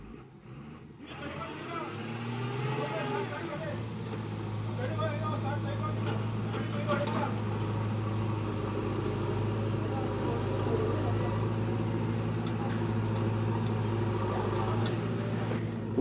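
A loaded lorry stuck in mud roars under hard throttle as a JCB pushes it, with a deep sustained engine drone that holds steady. Voices talk over it throughout.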